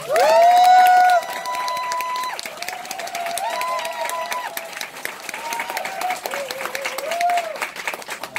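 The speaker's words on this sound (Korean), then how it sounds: "이만영 교수님을 큰 박수로 모시겠습니다" An audience gives a big round of applause to welcome Professor Lee Man-young to a Nu Skin Pharmanex lecture, with dense, steady clapping lasting throughout and a sustained tonal sound running over it.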